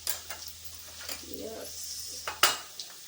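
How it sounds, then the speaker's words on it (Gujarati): A pan of vegetable curry being tempered on a home kitchen stove gives off a soft sizzle, broken by a few sharp metallic clinks and scrapes of utensils against the pan. "મમ્મીએ શાક બનાવી દીધું એટલે વઘારવા મૂકી દીધું"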